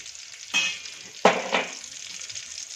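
Spices hitting hot oil for a masala khichdi tempering crackle in two sharp bursts, each settling into a steady sizzle and frying hiss with a brief stir between, close and fairly loud with no talking.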